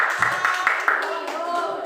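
A classroom group claps in a quick, even rhythm, about four sharp claps in a row, before a voice starts talking over the room.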